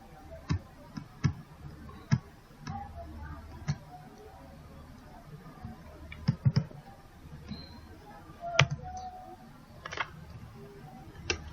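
Computer mouse and keyboard clicking while working in Microsoft Office 2016, sparse sharp close clicks scattered irregularly over a quiet room background, without talk.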